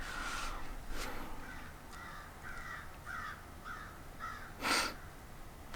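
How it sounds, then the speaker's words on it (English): A crow caws in a run of about six harsh, evenly spaced calls at middle distance, fairly faint over steady background hiss, with no one talking. "It's a crow calling just now."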